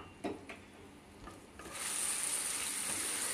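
A splash of water hitting a pan of spiced banana flower being fried with coconut powder, bursting into a loud, steady hiss and sizzle after a few soft stirring scrapes.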